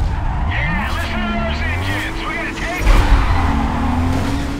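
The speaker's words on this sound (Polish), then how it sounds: "Łach, pięknie brzmi ta Alfa, powiem wam szczerze." An Alfa Romeo racing in Need for Speed Carbon, the engine note rising and shifting through gears with tire squeal and skidding, loud and continuous with a voice talking over it.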